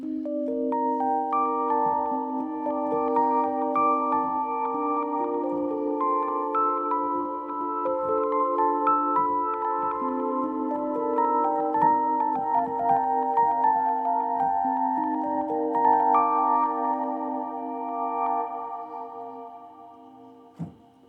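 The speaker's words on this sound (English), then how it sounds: "this is what I've come up with as a digital DAW equivalent to a reverse delay pedal" A Rhodes-style electric piano run through a reverse delay effect in a DAW: soft, smooth chords and melodic lines that swell in and blur together, steady and mellow, fading out near the end.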